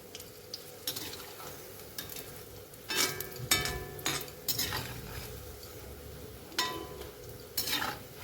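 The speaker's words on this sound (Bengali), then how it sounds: "বেশ লাল লাল করে ভাজা করে নেবো এটা" Banana fritters fry in a pan with a steady background sizzle, broken by several sharp scrapes and clinks of a metal spatula stirring and turning them, close up and with no talk.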